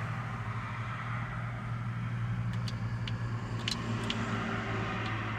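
A Chevrolet Chevelle drag build of 1,750 horsepower in Forza Horizon 5 drones with a steady low engine hum, moderately loud and unchanging, with a few faint high clicks near the end and no speech.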